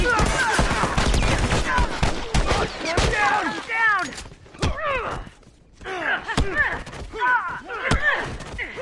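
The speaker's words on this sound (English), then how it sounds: "Goddamn burst rifles." Burst rifle gunfire in The Last of Us multiplayer: rapid clusters of sharp shots and thuds in bursts, with a lull in the middle, mixed with a player's shouting voice over the game sounds.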